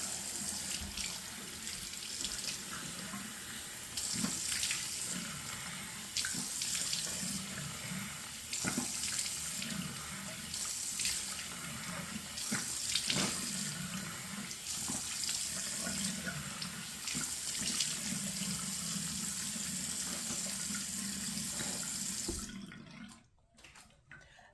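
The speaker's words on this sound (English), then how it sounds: "now I'm gonna rinse it off" Tap water runs steadily into a sink while someone rinses skincare product off their face, a continuous splashing flow with small surges that cuts off abruptly near the end.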